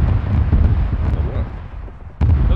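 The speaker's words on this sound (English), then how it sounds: "Those explosions." Explosions in the game ArmA 3, with dull low booms rumbling in a rough sequence and a final sharp blast at the end, heavy and fairly close.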